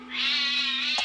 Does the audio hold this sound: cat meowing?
yes